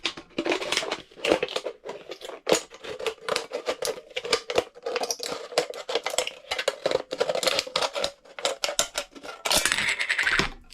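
The bottom of a metal can is cut open with a rapid run of sharp metallic clicks, crunches and scraping snips, close and fairly quiet, with no voices.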